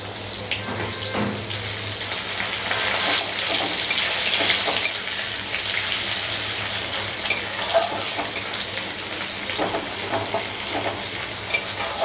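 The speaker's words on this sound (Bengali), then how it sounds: "পেঁয়াজটা একটু ভাজা ভাজা হবে।" Chopped onions sizzle and fry in a pan with oil and radhuni spice, a continuous crackling hiss with occasional stirring scrapes, close and steady, no talk.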